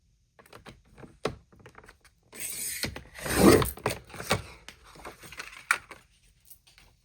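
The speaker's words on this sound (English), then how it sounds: "you are going to take your paper trimmer, and we're going to go from that mark" A paper trimmer cuts through paper in a series of close, sharp clicks and sliding scrapes, with a louder rasping stroke in the middle surrounded by lighter mechanical taps.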